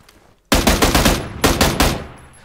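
Automatic gunfire in the video game PUBG on the Savage map, fired in two close, loud rapid bursts of several shots each, with a short tail of fading echo after each burst.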